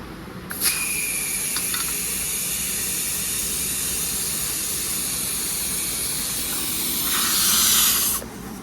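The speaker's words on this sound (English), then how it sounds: "We'll take the air gun that they provide." Steady loud hiss of compressed air blowing from an air chuck into a tire with the valve core removed, on a tire changer, for several seconds, swelling slightly near the end before cutting off.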